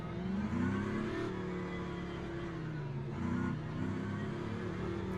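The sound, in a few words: Vanwall hypercar engine revving at Monza, racing video game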